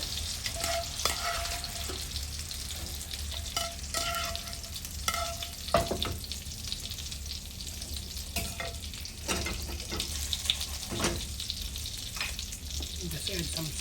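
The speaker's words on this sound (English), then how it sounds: "So our French fries are getting brown." French fries deep-frying in hot oil for a Cajun fish burger, a steady close sizzle and bubbling with occasional scrapes and stirs of a utensil against the pan.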